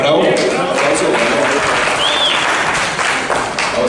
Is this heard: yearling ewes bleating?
no